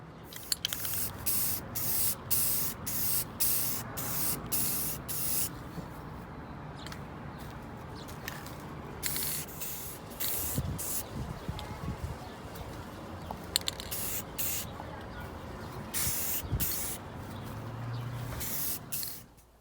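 Clear coat finish sprayed from an aerosol can over a stencil project, long hissing bursts broken by short pauses, close and steady with faint background noise.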